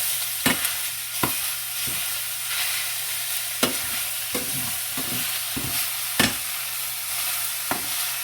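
Chicken egg roll filling tossed in a frying pan, with a steady sizzle broken by sharp scraping knocks of the utensil against the pan at irregular intervals, close and clear with no talking.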